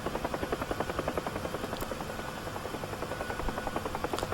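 An aircraft descending to land in the DCS flight simulator game, heard as a steady rhythmic rotor-like thumping drone with a continuous engine whine, close and even throughout with no talk.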